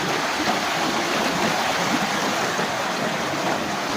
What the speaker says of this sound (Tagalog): Susuyurin ko nga pala yung sapa.